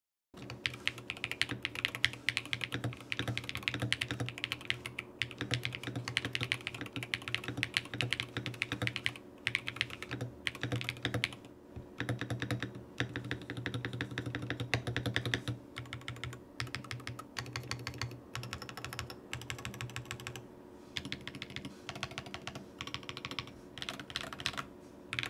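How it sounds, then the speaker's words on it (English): Steady, fast typing on a Backspace Oasis 75 rapid trigger mechanical keyboard, close and clear, with continuous dense keystrokes and brief pauses throughout. "Now let's check what the keyboard sounds like."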